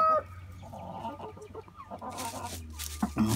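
Brown and white broiler chickens cluck and squawk close by in a coop or hoop house, a steady busy flock murmur with louder calls near the end.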